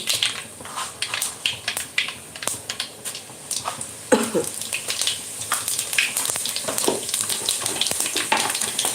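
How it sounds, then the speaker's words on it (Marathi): Cumin and mustard seeds sizzle and pop in hot oil for Khandeshi eggplant bharit, a close, continuous crackle broken by sharp irregular spatters and a brief stirring scrape midway, with no voices. "तेल छानपैकी तापलेलं आहे याच्यामध्ये जिरा टाकत आहोत जिरं छान तळतळू द्यायचं थोडी मोहरी"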